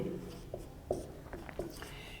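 A formula being written by hand, likely chalk or pen on a board during a statistics lesson, gives a few short scratchy strokes, faint and spaced apart, over steady low room noise.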